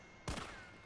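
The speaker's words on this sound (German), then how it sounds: "Zwei Schüsse ist auch der nicht mehr im Weg." Two sharp, booming gunshots at a zombie in the video game Resident Evil 3, in quick succession, the second cutting off right at the end, with a low hum in between.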